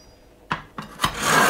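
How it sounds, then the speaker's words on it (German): Rasping strokes as a knife is drawn through the coarse grit slot of a sharpener, three short close scrapes followed by a longer, louder grinding pull. "dann nimmt man das Messer, hält es fest, setzt hier an und zieht durch die grobe Schleifung ein paar Mal"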